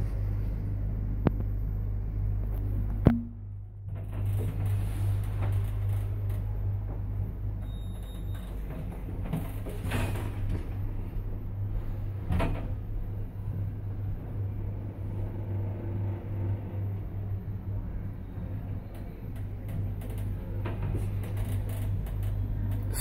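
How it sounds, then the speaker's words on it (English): A 2012 IGV group passenger lift rated for five persons, in Cardiff, runs with a steady low motor hum and rumble throughout, after a sharp clunk near the start and a few faint knocks and clicks along the way. "It's an IGV group lift."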